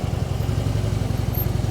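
A motorcycle engine idling at low revs, a close, steady low pulsing throb with even rapid beats and no speech.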